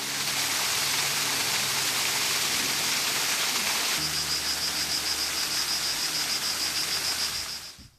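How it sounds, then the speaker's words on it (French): Water from a small waterfall feeding the Issole river near Carcès in drought-stricken July 2022 makes a steady, close, broadband rushing hiss. A faint high insect-like whine joins halfway through, and everything fades out at the end. "En découvrant cette petite cascade, je comprenais d'où provenait le peu d'eau qui alimentait la rivière."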